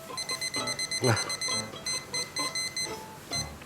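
A kitchen timer in a home bread-baking setting rings with rapid repeated beeping pulses in a steady rhythm, fairly loud and close, with a voice speaking briefly over it.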